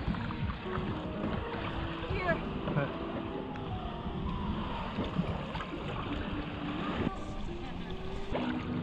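Steady wash of boat motor and water noise with wind buffeting the microphone, heard aboard a boat setting out off Varadero, Cuba; constant and fairly loud throughout, with no clear speech.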